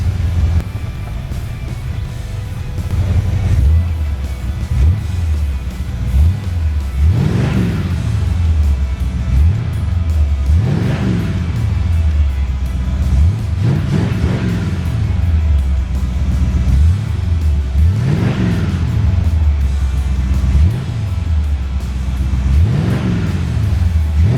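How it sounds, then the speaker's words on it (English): A 1974 Plymouth 'Cuda engine revs repeatedly, rising and falling in regular bursts over a steady idle rumble, loud and close throughout. "Let's give her a couple of revs."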